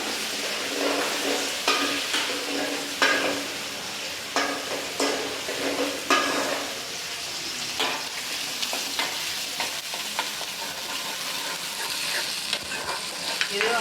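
Onions sizzle and fry in a pan for a mutton fry, with a constant hiss broken by frequent scraping, clattering stirs of a spatula at irregular intervals, close and clear with no voices.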